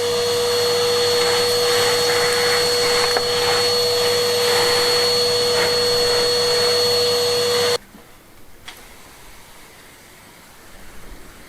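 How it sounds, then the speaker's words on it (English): A vacuum cleaner roars steadily over courtyard paving for several seconds, then cuts off abruptly, leaving quiet outdoor ambience. "Going to give it a good vacuum."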